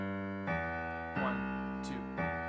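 A piano plays a basic New Orleans-style left-hand blues pattern in C: a few sustained low chords struck one after another, clear and alone.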